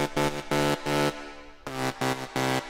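Soloed upper bass layer of a song mix in Ableton Live, playing as a sustained, buzzy tone in four or five even chopped notes with short gaps between them, no voices over it.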